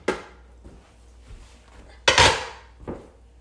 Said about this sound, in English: I'm going to take this lid off and I'm going to go to the sink